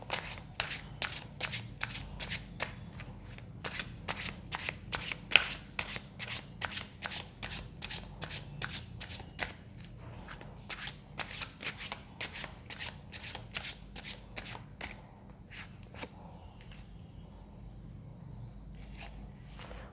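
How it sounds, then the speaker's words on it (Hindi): Tarot cards being shuffled by hand, a steady run of crisp riffling flicks repeating quickly and close up for nearly twenty seconds, easing off toward the end. "जब तक मैं कार्ड शफल कर रही हूँ"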